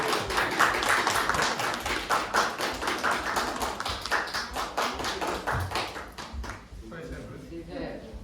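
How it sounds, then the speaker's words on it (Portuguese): Applause for children at a church thanksgiving service, steady crowd clapping that runs for several seconds and then fades, with voices talking over it. "Uma salva de palmas para as crianças."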